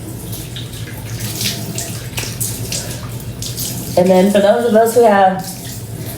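Tap water running steadily while a face is rinsed of cleanser, a constant close hiss that continues under a voice speaking in the second half.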